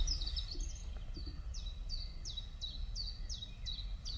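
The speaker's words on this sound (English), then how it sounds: "And there are even birds in it." Birds chirp in a steady run of short, high, descending calls, repeated about twice a second over a low rumbling background.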